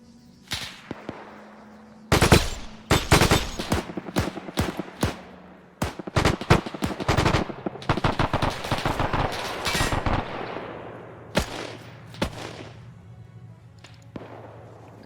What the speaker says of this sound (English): There's the Crusader firing back.